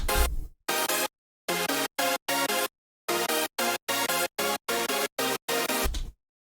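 Layered synth chords from a hardstyle track made in FL Studio play as a rhythmic run of short, bright, full chord stabs separated by clean gaps, with no talking.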